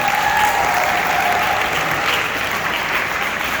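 Steady, loud audience applause fills the room for the largest airline in Africa, a dense wash of clapping without pause and no voices standing out.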